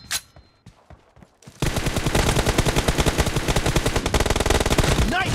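Gunfire in the mobile shooter game PUBG Mobile during a team deathmatch: a few scattered shots, then a loud, sustained rapid burst of automatic fire.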